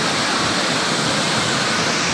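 River water rushes loudly and continuously at a bathing spot in Pantabangan, Nueva Ecija, a dense, steady roar with no pauses and no voices.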